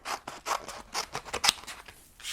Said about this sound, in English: now we are just gonna loosely cut those out separately